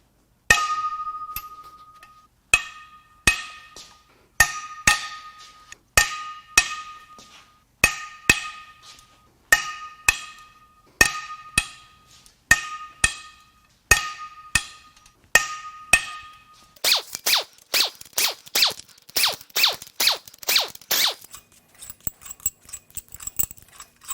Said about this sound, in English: Now it's time to crack the head bolts loose.